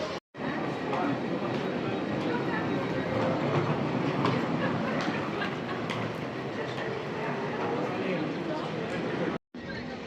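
A train in Poland runs steadily along the rails with a continuous rumble and rattle, heard from inside a first-class carriage, with indistinct voices murmuring underneath.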